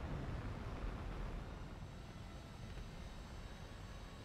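An aircraft engine drones in War Thunder during a tank battle fought with the Pz.Kpfw. VIII Maus, a steady, fairly quiet roar that gradually eases off, with no talking.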